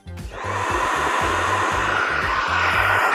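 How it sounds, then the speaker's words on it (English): A hair dryer blows steadily with a loud, constant whoosh and hum, running without pause after a brief start, heating a label on an Oklahoma Joe's Rider DLX grill. "I guess when all else fails, get out the Weiss hairdryer."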